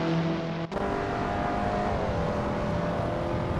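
Abarth 500 race cars in Assetto Corsa drone steadily at high revs on the Prague circuit, with a brief dip as one shifts before the engine note climbs again.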